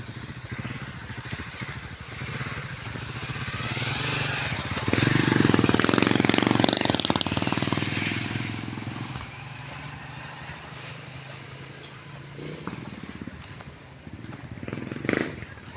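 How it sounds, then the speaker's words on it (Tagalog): A single-cylinder motorcycle engine on a rural track near a creek crossing, a buzzing engine that swells louder as it passes close by around the middle, then fades back to a lower steady drone. "So, may motor doon."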